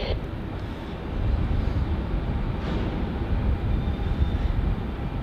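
Qantas flight QF 1515 from Canberra arriving at Melbourne Airport in heavy wet weather, a steady distant jet roar under rain-like hiss, fairly even in level, no voices.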